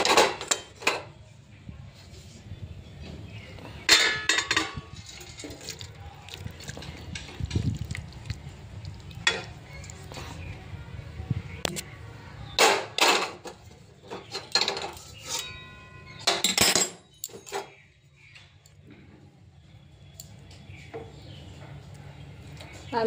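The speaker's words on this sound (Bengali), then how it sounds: "এবার ঝোলটা নামিয়ে নিচ্ছি।" A pot of thin fish curry is lifted off a stove, with scattered metallic clinks and scrapes of cookware against a quiet kitchen background, and a voice talking at times.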